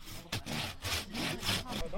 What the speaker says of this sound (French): tu sais on a payé toutes les dents de la scie, hein, donc tu peux les utiliser